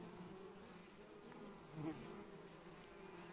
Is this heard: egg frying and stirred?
no